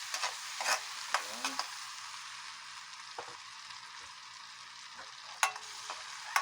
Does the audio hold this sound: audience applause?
no